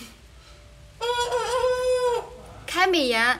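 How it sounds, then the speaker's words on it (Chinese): A farmyard rooster, penned apart from the hens at a rural home, crows twice in long drawn-out calls close by, with a voice heard briefly between them. "什么在叫唤？ 公鸡在叫唤，"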